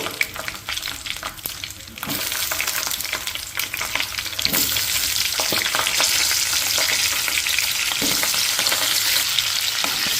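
Cut ivy gourd sizzles and crackles in hot oil, a loud steady frying hiss with occasional clatters of stirring.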